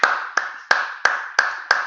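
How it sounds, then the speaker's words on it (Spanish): Six sharp hand claps at a steady, slightly slow rhythm, each one crisp and close, spaced about a third of a second apart during a live trading-news broadcast. "Vamos a dar un aplauso"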